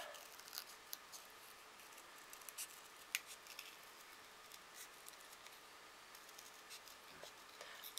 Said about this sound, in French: On découpe, on découpe.